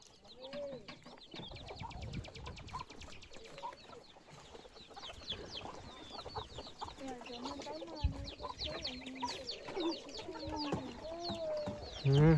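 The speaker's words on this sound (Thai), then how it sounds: "ไก่หาอยู่หากิน" Chickens cluck softly while foraging around a rural home in the morning, a busy scatter of short calls from several birds nearby, with distant crowing and light background voices.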